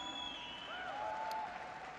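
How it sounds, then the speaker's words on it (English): Steady applause from an audience, continuous and fairly even, with no voices standing out. "Give them a big round of applause."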